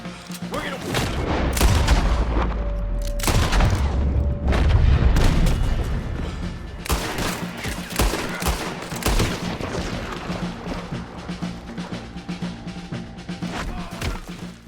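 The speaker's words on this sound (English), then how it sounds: "We need to take out that cannon!" A Red Dead Redemption 2 battle rages with heavy cannon booms and rapid volleys of rifle and gunfire, dense and loud throughout, with shouted voices mixed into the chaos.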